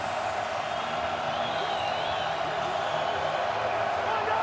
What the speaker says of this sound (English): As they get closer to the end zone, the crowd gets louder.